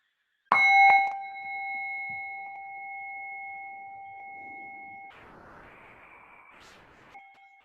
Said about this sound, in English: bring your attention back with the sound of the gong